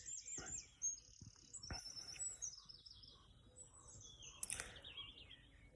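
Birds chirp and tweet at a Dartmoor camping club site in the morning, with several short, high calls scattered over a quiet background. The calls sound faint and somewhat distant.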